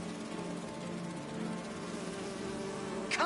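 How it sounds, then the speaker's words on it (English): A holographic bee-wolf in the video game Spider-Man 2 gives off a steady, close insect-like buzz that holds throughout, ending with a brief bright chirp. "Do you see those little holographic bee-wolves?"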